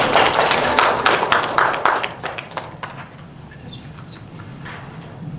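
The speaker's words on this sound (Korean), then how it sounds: "다시 한번 박수." Audience clapping at a Korean community meeting about building a memorial hall, a steady patter of many hands that is strongest at first and then thins to scattered claps.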